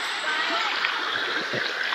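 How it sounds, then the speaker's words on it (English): A rainforest creek in the Daintree, near a sacred blue hole, flows with a steady broadband rush and light splashing, continuous and fairly close, with a few faint low thumps underneath. "This is a nice creek running through here."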